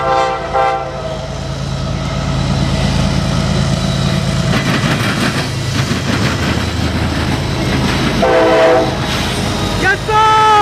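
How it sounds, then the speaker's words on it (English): CSX eastbound autorack freight train pulling out of Marion, Ohio, with several loud horn blasts near the start and end over a steady rumble and rail clatter of the passing cars. "CSX M204 is now finally leaving Marion,"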